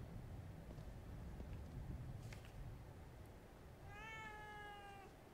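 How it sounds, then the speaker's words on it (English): Cat meowing in the video game The Evil Within 2: a single drawn-out meow near the end, fairly clear above a steady low background hum, with no talk. "I heard a cat meow."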